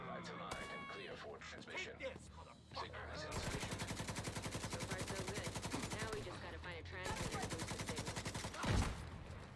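Rapid automatic gunfire from The Division 2 video game rattles out in long, loud sustained bursts with a brief break in the middle, preceded by scattered shots and game noise.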